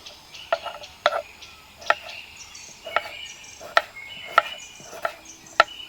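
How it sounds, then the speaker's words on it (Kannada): A knife chops carrots and beans into small pieces on a board: sharp, separate knocks at an uneven, unhurried pace, about a dozen in six seconds, close and clear over a quiet background. "ಈಗ ಇದನ್ನು ನಾವು ಚೆನ್ನಾಗಿ ಚಿಕ್ಕದಾಗಿ ಕಟ್ ಮಾಡಿಕೊಳ್ಳುವ"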